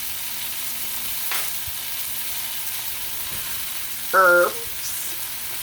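Salt and herbs stirred into a hot pan for honey salmon, giving a steady soft sizzle throughout, with one brief spoken word near the end.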